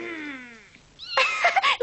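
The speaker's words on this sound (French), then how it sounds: "Tu es le plus gentil des chatons." A kitten mews in a high, drawn-out cry that slides downward, and after a short pause a louder, brighter cluster of mews follows close to the listener.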